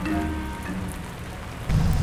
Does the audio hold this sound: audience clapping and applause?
no